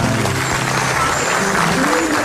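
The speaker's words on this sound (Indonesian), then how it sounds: "Tepuk tangan dulu dong, tepuk tangan dulu." A studio audience at an Indonesian comedy talk show breaks into dense, continuous applause, a loud, steady wash of clapping that fills the whole stretch.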